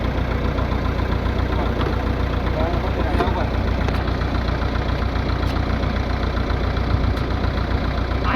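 A tractor engine idles and runs on a farm at sowing time, a loud, steady low rumble with a constant knocking pulse that fills the whole stretch without letting up.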